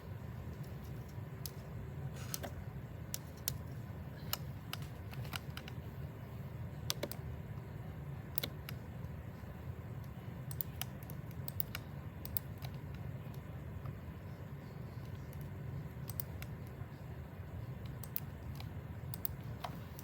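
Clicking and typing on a computer keyboard, a steady stream of faint, close keystrokes and clicks at an irregular rhythm over quiet room noise, with no talk.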